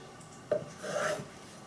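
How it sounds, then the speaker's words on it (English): A knife draws once through a sponge roll log, a soft rasping stroke lasting under a second in a quiet kitchen. "I'm going to slice the big log that we had before into 1/2-inch slices."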